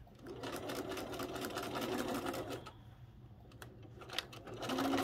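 A sewing machine stitches a wedding ring quilt in a fast, steady rattle that stops briefly partway, then picks up again, moderately close and alone without talk.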